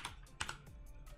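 Typing on a computer keyboard during a web app coding session, a quick run of close, light key clicks with a few sharper taps, fairly quiet and with no talk over it.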